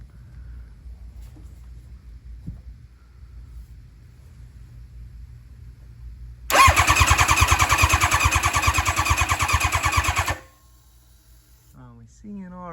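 A nitrous Hayabusa motorcycle engine, a 500 hp barn find, cranks with a loud rapid chugging starter for about four seconds, then falls quiet without catching; voices talk faintly around it.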